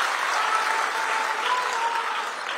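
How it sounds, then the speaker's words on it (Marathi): An audience at a political rally applauds steadily for nearly three seconds, a dense, even wash of clapping with no voices over it. "आपण सर्वांनी सत्कार केला पाहिजे टाळ्या वाजवून"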